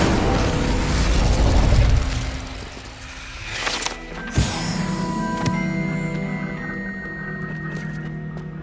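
Incendio fire spell cast in Hogwarts Legacy, a loud rumbling whoosh of flame that fades, followed by a sharp pop and a crackling, ringing magical tail, alone without speech.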